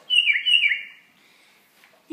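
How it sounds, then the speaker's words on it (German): Birds chirping as a sound effect in a Lego WeDo robot story, one bright warbling call near and clear, then a faint trailing chirp. "Dann kommen Vögel."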